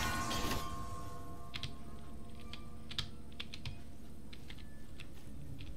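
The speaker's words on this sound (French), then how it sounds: "Je m'emmêle dans les touches de clavier" Rapid, irregular clacking of computer keyboard keys while someone plays God of War, close and steady throughout with a background hum and no talking.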